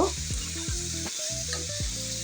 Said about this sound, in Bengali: এই চিংড়ি মাছের সাথে পেস্টটা আবার ভালো করে ভেজে নেব।